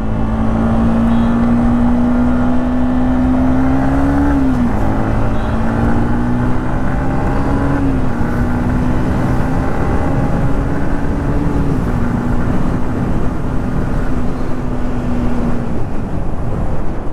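Loud, steady road traffic at night drones on with a constant engine hum that shifts pitch slightly a few times, heard from a Yamaha MT15 motorcycle. The noise is continuous and close, with no talking.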